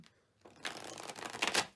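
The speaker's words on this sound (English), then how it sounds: "So let's do two shuffles. Shuffling, shuffling, shuffling for Gemini." A deck of tarot cards is shuffled by hand in a rapid riffling rush that starts softly and builds to a brisk, close flutter before stopping.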